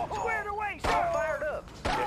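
A sniper fires single shots in the Red Alert strategy game. Three sharp, loud cracks land about a second apart, each followed by brief tonal game sounds.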